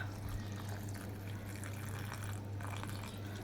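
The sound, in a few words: water poured into mixer jar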